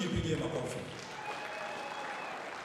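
An audience of development officers at a meeting applauds themselves with a sustained wash of clapping that is loudest at the start and then settles into a steady patter.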